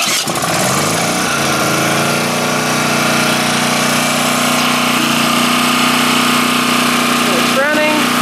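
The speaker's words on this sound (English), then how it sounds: "It's running." A portable gas generator, a Champion or Honda unit, catches on a pull start and settles into a loud, steady engine drone with a constant hum that runs unbroken through the clip. A voice speaks briefly over it.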